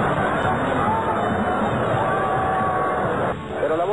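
Large football stadium crowd at a Universitario de Deportes match, a dense roaring wall of cheering and applause that stays loud and steady before dipping briefly near the end.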